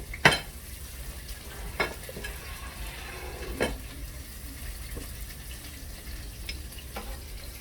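Shredded onion frying in a pan, a steady low sizzle with a few sharp scrapes or knocks of a utensil against the pan, no talking.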